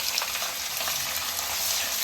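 Thin-sliced onions sizzle in hot oil for garlic rice, a dense, even hiss of frying that stays steady and close throughout with no voices.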